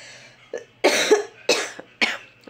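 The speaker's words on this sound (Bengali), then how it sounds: "আর বলো না, কাশি।" A person coughs in three or four harsh bursts spaced about half a second apart, close and fairly loud, with a little throat clearing and no speech between them.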